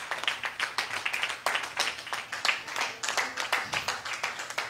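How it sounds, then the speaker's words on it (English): A church congregation claps for Brother Clive at a prayer service, a lively stretch of fairly close, uneven hand claps that keeps going throughout. "Somebody clap for Brother Clive"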